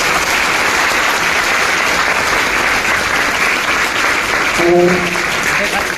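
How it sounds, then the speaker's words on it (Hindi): Students at a school legal awareness camp applaud loudly and steadily, a dense roar of clapping that runs the whole way, with a brief spoken word near the end. "उनके लिए बस जोरदार आप लोग ताली बजाएं"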